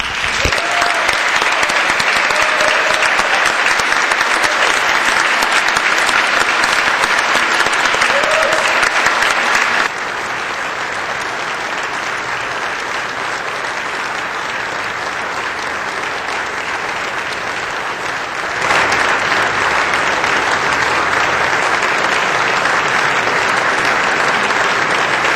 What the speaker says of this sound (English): I would like to stand and give him some applause